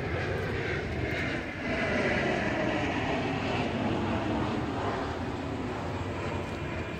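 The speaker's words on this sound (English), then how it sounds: "Airplane." An airplane passes overhead with a steady, broad roar that holds for several seconds at a moderate distance, with no voices.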